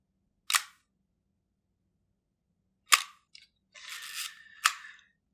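A single-lens reflex camera shutter fires with a sharp click and, after a pause of about two seconds on a slow setting, closes with a second click. A short rustle and another click follow, each crisp and close against silence.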